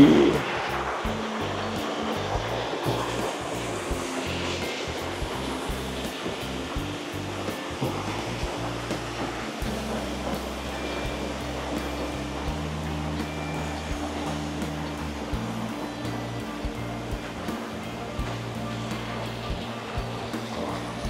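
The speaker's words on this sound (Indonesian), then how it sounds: "Kalau di sini lumayan keras suara air terjunnya." Roaring waterfall at Curug Tilu Ecopark in Ciwidey, heard at night near the lodging and toilets: a loud, steady rush of falling water that continues unbroken for the full length, with no speech.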